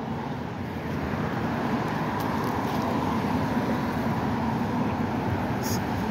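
Cars drive along the bus lane on Columbus Avenue, making a steady broadband traffic rumble that holds continuous and fairly loud throughout, with no distinct pass-bys.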